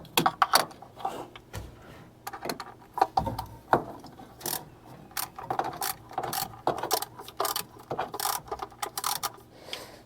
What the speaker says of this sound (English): I need to get a better socket wrench